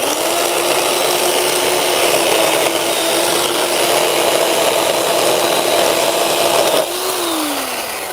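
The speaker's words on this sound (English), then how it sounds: "this chain is so scuffed that it's like cutting with sandpaper right now" A chainsaw with a badly worn, dull chain cuts through wood in a steady, loud, close drone that holds for most of the stretch, then its pitch drops near the end as the cut finishes.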